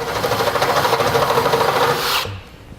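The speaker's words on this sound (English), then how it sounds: "So now we're going to drill this out to the size indicated in the instructions." A close, loud, continuous grinding whir of a drill boring out a hole in a steel bracket for about two seconds, then cutting off abruptly.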